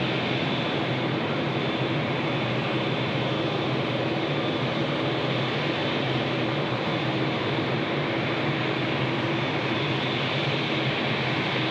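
Air India Boeing 787 arriving at Sydney Airport, heard as a steady, loud broadband jet roar with a constant engine hum that holds evenly throughout, no voices.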